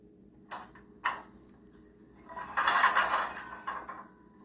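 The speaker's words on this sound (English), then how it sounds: "that's the sound of the brake releasing." A Soundtraxx Soundcar decoder plays a model railroad brake release effect through a 28mm speaker: two short clanks, then a longer hissing, rattling burst of air that fades out, faint and close.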